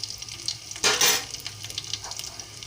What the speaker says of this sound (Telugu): అలాగే ఎండుమిరపకాయలు కూడా ముక్కలుగా తురిచి వేసుకోవాలి. ఇవి కొంచెం వేగుతూ ఉంటాయండి.